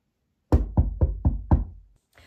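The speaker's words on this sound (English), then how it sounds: "All of a sudden, there was a knock at the door." Five firm knocks on a wooden door in a steady, close rhythm, loud and dry with nothing else around them, followed by a faint trailing sound.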